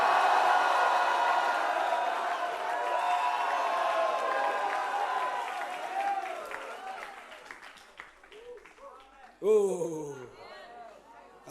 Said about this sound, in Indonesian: sorak-sorai.